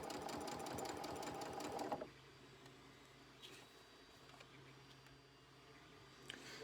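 Sewing machine stitching binding onto a quilt a quarter inch from the edge, humming in a fast, even rhythm for about two seconds before stopping, followed by quiet handling noises.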